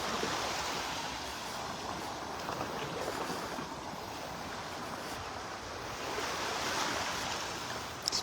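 Steady surf washes up on a beach in North Naples, Florida, a continuous broadband roar of breaking waves that swells slightly near the end, heard alone without voices.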